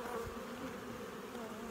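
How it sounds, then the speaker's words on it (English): Honeybees in an opened hive hum in a steady, faint drone, alone and continuous throughout. "The further you go into the hive, the more agitated the bees will get."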